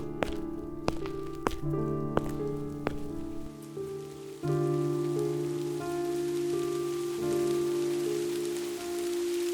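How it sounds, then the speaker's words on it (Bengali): A cartoon rain storm hisses as a broad wash of falling rain beneath sustained musical tones, with a few sharp drip-like hits early on before the rain grows steadier and louder. "এখন এই ঝড় বৃষ্টি কখন থামে"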